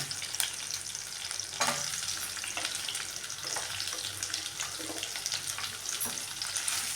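Onions sizzling in hot oil in a pan, a steady frying crackle with occasional stirring scrapes, close and continuous, no voices.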